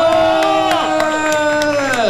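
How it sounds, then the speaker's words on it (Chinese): Baseball crowd at a stadium player-introduction event cheering and shouting loudly and continuously, with whistles and whoops cutting through as an announcer's amplified voice rings over the noise. "掌声给王义正，"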